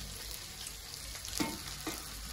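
Food frying in a pan gives off a faint, steady sizzle, with a couple of soft stirring clicks near the middle.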